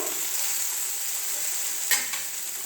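Eggplant slices fry in a pan with a steady bright sizzle that holds at an even level, broken near the end by one short clatter as a slice is turned or touched.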